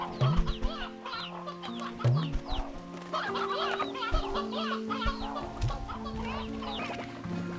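Roosters in the video game Slime Rancher 2 clucking repeatedly in short bursts, several birds overlapping over a steady game background hum, fairly close and clear.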